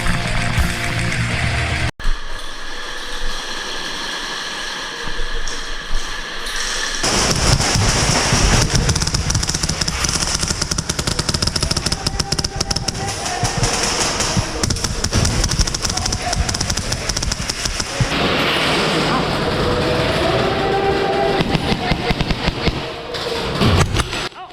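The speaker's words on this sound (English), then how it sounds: "Harry pre-firing the hell out of the lane, preventing the enemy from poking their heads while pushing up" Rapid, repeated popping shots from airsoft guns pre-firing down a lane in a Taiwan speedQB match, dense clattering bursts close by, with people talking over them.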